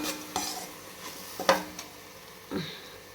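Onion and lemon mixture being stirred in a pan, a few distinct scrapes and clinks of utensil against metal spaced across a short stretch, close and moderately loud, no talking.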